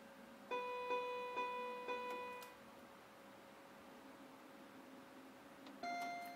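A toy electronic keyboard set to its piano voice plays four quick, bright, beepy notes with a short decay, then falls quiet before one more note sounds near the end. Playback is close and fairly soft, with no talking.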